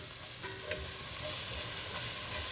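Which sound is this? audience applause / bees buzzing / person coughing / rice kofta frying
rice kofta frying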